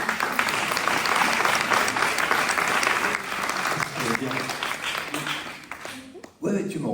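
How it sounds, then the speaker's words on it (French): A crowd applauds loudly and steadily for several seconds, the clapping thinning out near the end. "On applaudit Nathanaël"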